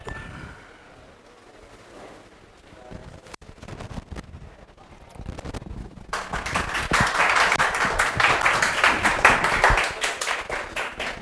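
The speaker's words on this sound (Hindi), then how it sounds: "जोरदार तालियां" An audience of students in a hall breaks into applause after a few scattered claps, swelling into loud, dense clapping that fills the second half and keeps going strongly to the end.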